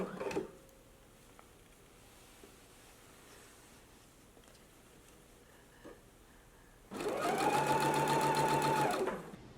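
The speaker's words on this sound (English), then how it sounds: "let's go ahead and sew our neckline in place now" A sewing machine stitches the neckline of a gingham dress, a steady close whirring run of rapid stitching that starts late after quiet handling rustles.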